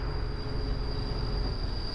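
Coal trains in Workers & Resources: Soviet Republic rumble steadily with a low, continuous rolling drone and a faint high whine, heard alone without talk.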